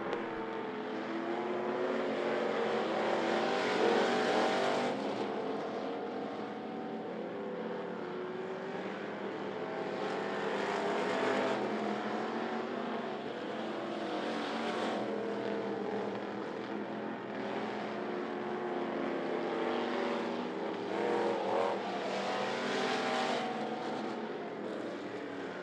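Race cars roar around the track during a heat race at I-75 Raceway, a continuous engine drone that swells and fades as the pack passes at a distance.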